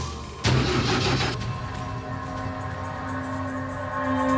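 A car engine cranks and catches with a sudden loud burst, then settles into a steady idle hum, close by with no talk over it.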